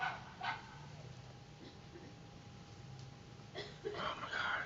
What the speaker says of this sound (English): Oh my god, our neighbor's dog's in.